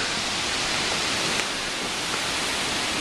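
Strong, gusty hurricane wind in Virginia Beach roars as a steady, dense broadband rush with slight swells, close and loud, with no voices.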